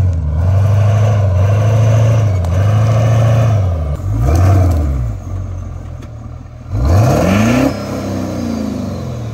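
A lifted Ford F350 truck drives with its engine loud and close, revving up and down through repeated gear changes, the pitch rising and dropping several times over steady road noise.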